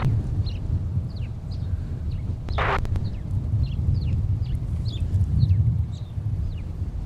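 Small birds chirp outdoors on a chilly day near the MSP airport, repeated short high chirps scattered throughout over a low, steady outdoor rumble.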